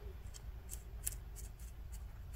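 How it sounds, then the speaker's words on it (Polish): Scissors snip a small piece off a model shrub made for an H0-scale model railway layout, giving several crisp, close cutting clicks at an uneven rhythm over a quiet room background. "Biorę sobie nożyczki, odcinam kawałeczek tego krzaczka"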